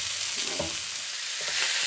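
Meat browning in a frying pan with very little fat, a steady loud sizzle and crackle throughout, with faint stirring scrapes underneath.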